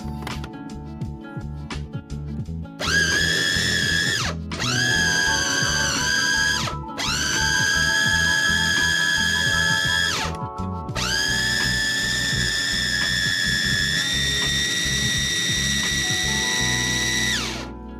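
Electric food chopper mashing bananas for a snack, whirring loudly in several bursts with a high motor whine, brief pauses between runs, and no talking.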